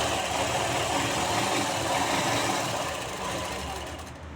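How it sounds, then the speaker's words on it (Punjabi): A sewing machine stitches along a marked fitting seam on a kameez, a steady, close, continuous mechanical whir with fast rhythmic chatter that runs without a break and eases slightly toward the end. "ਜਿੱਥੇ ਤੱਕ ਆਪਣਾ ਨਿਸ਼ਾਨ ਲੱਗਿਆ ਹੋਇਆ ਉੱਥੇ ਤੱਕ ਆਪਾਂ ਸਲਾਈ ਮਾਰ ਲਾਂਗੇ"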